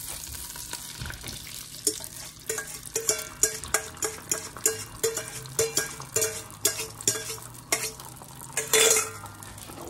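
Five eggs cook in a pan, a soft sizzle running underneath repeated scraping and tapping of a utensil against the pan at a steady, rhythmic pace.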